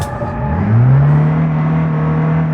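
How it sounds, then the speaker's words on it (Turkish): A Ford Transit van's engine revs at full throttle in BeamNG.drive, a loud steady drone that climbs in pitch and then holds high, heard alone without talk. "Bir gazlayayım bakayım. Son dip gaz."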